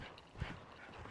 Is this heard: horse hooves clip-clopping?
yes